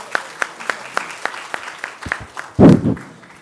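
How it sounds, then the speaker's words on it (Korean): Scattered claps from an audience at a Seoul National University presentation contest closing ceremony, a dozen or so distinct spaced claps before a short louder burst of clapping near the end. "큰 박수 부탁드립니다."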